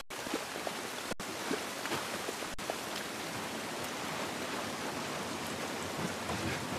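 Rain in the video game The Last of Us Part 1, a steady, dense hiss of falling rain on surfaces throughout, even and fairly close, with no voices.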